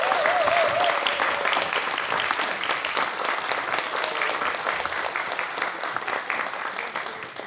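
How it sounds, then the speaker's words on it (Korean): An audience at a Korean gugak worship music talk concert applauds steadily and loudly, a dense wash of clapping that fades slightly over time, with a faint voice or tone briefly near the start. "다시 한번 큰 박수로"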